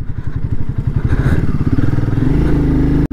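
A 2024 Royal Enfield Himalayan 450 rides over rocky ground. Its single-cylinder engine thumps loud and close, with clattering and knocks from the rough surface and a sharp thud near the end.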